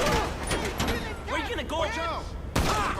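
A pistol fires a few sharp shots in GTA 5, heard under someone talking over the game action.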